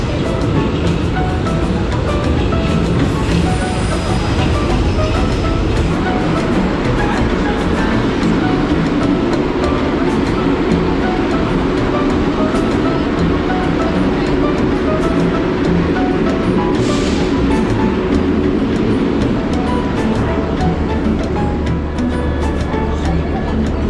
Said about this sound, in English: The train will be here in 3 minutes.